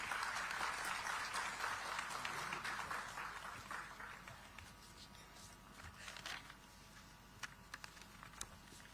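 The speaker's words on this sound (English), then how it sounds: "Let's welcome him with a warm round of applause" Applause from a summit audience welcoming a speaker on stage, moderately distant clapping that fades gradually, with a few sharper claps near the end.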